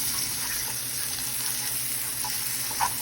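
Minced garlic with pizza or marinara sauce sizzles in an oiled pan for chicken parmesan, producing a soft, steady hiss with a brief stir or scrape near the end; quiet and close, with no talk.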